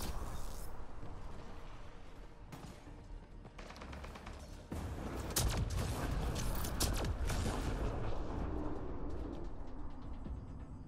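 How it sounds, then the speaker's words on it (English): Dense video-game gunfire with incendiary ammunition, bursts and rapid shots crackling through a busy multiplayer round, growing heavier and louder midway with booming impacts under a steady din. "Looks like he has incendiary ammo on."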